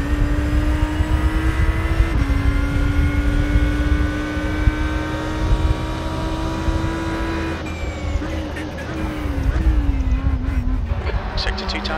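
A race car engine in the iRacing simulator drones steadily on a lap of Laguna Seca, holding a high whine and then dropping with downshifts and braking into a corner.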